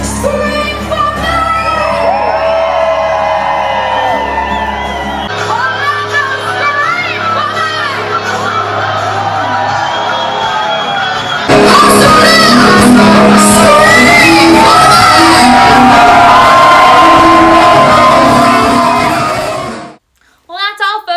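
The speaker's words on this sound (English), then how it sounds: "Scream for me!" A concert crowd screams, shouts and cheers loudly and continuously, swelling to an even louder roar partway through before cutting off abruptly at the end.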